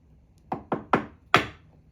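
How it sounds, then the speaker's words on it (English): A chisel cuts into wood for a seat joint with four sharp, close knocks that come in quick succession and fade between strikes, with no talk. "I'm trying to hold the chisel perpendicular."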